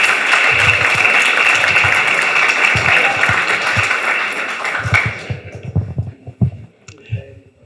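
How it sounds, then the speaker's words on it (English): After a hackathon pitch, an audience breaks into applause that is loud and dense at first, with low thumps and murmurs underneath, then thins out to scattered claps and fades away. "Round of applause."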